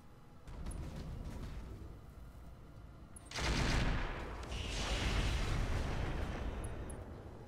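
Mech weapons firing in the Roguetech battle game, a rumbling barrage of heavy blasts and booming impacts, swelling loud midway and rolling on with rough layered explosions.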